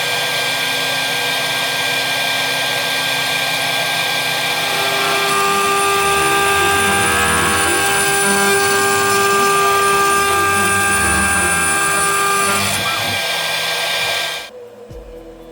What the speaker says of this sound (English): The third step uses a chamfer bit to create a beveled edge around the O-ring seat.